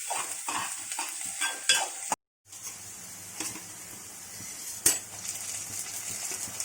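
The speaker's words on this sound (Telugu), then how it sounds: "మధ్యలో కలుపుతూ ఉండాలి. అలా 10 నిమిషాలు వేయించుకోవాలి." Aloo samosa filling is stirred and fried in a pan: a steady soft sizzle with repeated spoon scrapes and clinks, one brief gap of silence midway, no talking.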